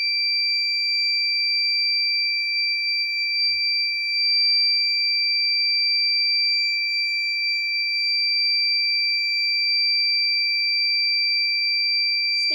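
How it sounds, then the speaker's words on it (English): A continuous high-pitched electronic buzzer tone from a transformer temperature alarm sounds loudly and steadily without a break. "Still the temperature is 41, so the buzzer is on here."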